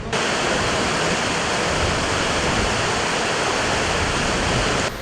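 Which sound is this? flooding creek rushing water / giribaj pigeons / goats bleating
flooding creek rushing water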